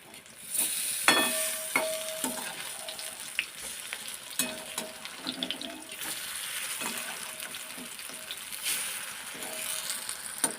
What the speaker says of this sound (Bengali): এবার এগুলো উল্টে পাল্টে করে ভাজবো।